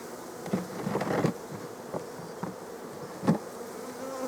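Honey bees buzz at a beehive in a soft, continuous hum, with a few louder swells as individual bees pass close.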